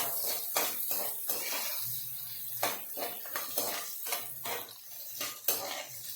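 Slit green chillies fry in a pan for paneer butter masala, with repeated metal clanks and scrapes of a spoon stirring against the pan over a faint sizzle, close and irregular.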